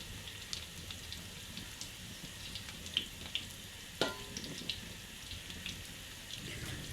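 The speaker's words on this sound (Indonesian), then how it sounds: "ini yang pertama itu saya goreng dulu untuk tempenya" Tempeh fries in a pan for orek tempe, giving a steady, low sizzle with occasional light clinks and scrapes, heard close up with no talking.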